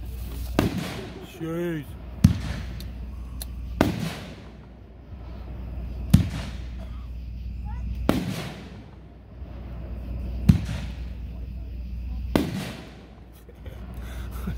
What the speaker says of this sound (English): Number 6, White Knight, pack 2-1, 10 shots. Get up there.